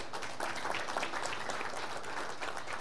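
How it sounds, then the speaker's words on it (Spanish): Steady, even applause from a forum audience welcoming a delegation from Mexico fills the whole stretch, soft and distant, with no clear voices standing out. "vamos a brindarles también un caluroso aplauso a los hermanos de México"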